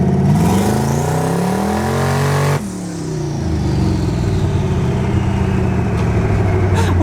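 A twin-turbo Chevrolet Malibu engine revs hard from close by, climbing in pitch as boost builds. It drops off abruptly, then surges loud again with a raspy mid-range roar.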